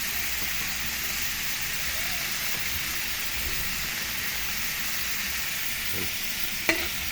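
Kangkong water spinach with tofu being stir-fried in a pan, a dense steady hiss of sizzling oil throughout with a faint stirring knock near the end.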